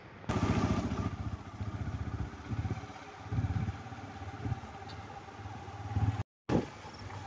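A motorcycle rides along a rough road through a small village near Alangulam in Tenkasi district, its engine droning steadily at mid pitch with rattles and road noise, close and continuous, broken by one brief dropout.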